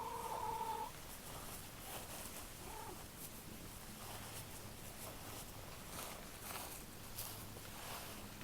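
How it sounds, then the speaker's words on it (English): A domestic cat purrs softly and close by in a quiet room, a low steady rumble continuing for several seconds with faint movement around it. "Curious cats."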